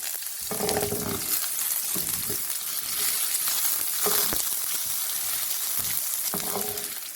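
Eggplant and potatoes fry in oil in a kadai until browned: a steady, close sizzle with bursts of stirring and scraping throughout, and no voices.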